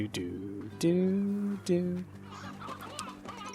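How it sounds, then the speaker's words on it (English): Hens clucking in the video game Slime Rancher: several close, loud, drawn-out clucks in a row, then softer scattered bird sounds, with a person talking over them. "Oh, look at all these hens."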